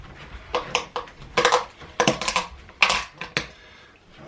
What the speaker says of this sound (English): Put the lid on, just get a little shake up to mix in the sand with the grout